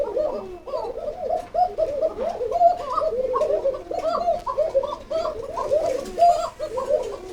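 Koka pigeons in a loft cooing continuously, many overlapping throaty coos from several birds close by, rising and falling in a steady chorus without talk.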